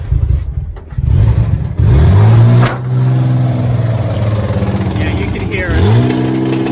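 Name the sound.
RB20 Nissan Skyline driving with a bad gearbox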